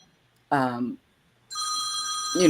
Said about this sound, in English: My work phone is going on.